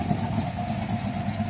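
A Ford Boss 302 stroker with a solid lifter cam and stock mufflers idles steadily nearby, a low, even engine rumble with a faint mechanical chatter running throughout.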